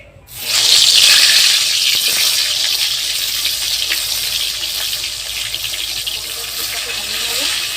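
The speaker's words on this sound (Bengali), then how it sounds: "বেগুনগুলো এবার ভেজে নেবো" Eggplant pieces dropped into hot oil in a wok, a sudden loud sizzle that rises at once and holds as a steady bright hiss, easing slightly over several seconds.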